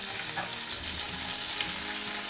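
Crushed ginger, garlic and green chili fry in a pan for soybean curry, making a continuous, fairly soft hiss and crackle at a steady level with no speech.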